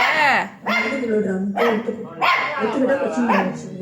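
A dog barks repeatedly at close range in short bursts while a person scolds it and talks loudly over the barking.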